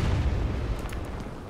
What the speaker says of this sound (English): Keep hitting the town with the artillery.